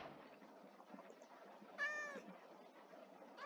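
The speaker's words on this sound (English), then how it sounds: "you can have a little pet cat" Pet cat in the Building World video game giving a single short, clear meow midway, followed by a faint second call at the end, over a quiet background.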